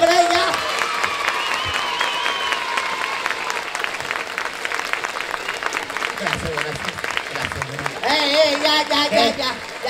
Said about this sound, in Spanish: fuerte el aplauso para ella